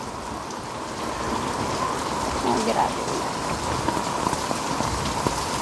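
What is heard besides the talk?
heavy rain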